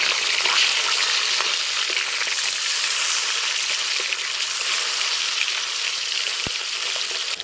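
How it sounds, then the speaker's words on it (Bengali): Aair fish frying in oil in a village kitchen, giving a loud, dense, continuous sizzle with one brief tap near the end and no voices. "হালকাভাবে ভেজে নেবো মাছগুলোকে"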